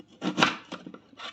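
A knife chops through turnip for mixed homemade pickles, giving a few quick, close cutting thuds on a board in a short burst.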